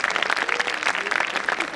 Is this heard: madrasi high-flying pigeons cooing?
no